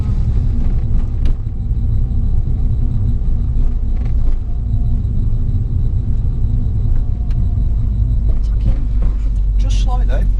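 A car engine labouring with a slipping clutch drones in a heavy, steady low rumble from inside the vehicle, straining without letup, with faint voices now and then.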